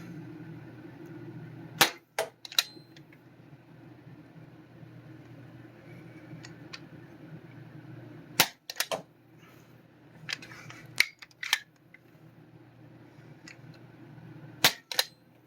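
A modded Dart Zone Storm Squad toy blaster fires darts outdoors, sharp snapping shots arriving in clusters of two or three every few seconds over a low background hum.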